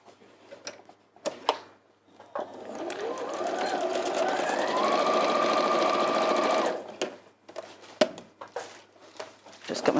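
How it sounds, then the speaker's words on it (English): A sewing machine stitches a fabric doorstop in a steady, continuous mechanical whir lasting several seconds, near and fairly loud, with brief clicks and handling noises before and after and a little talking nearby. "then we sew all the way around the side"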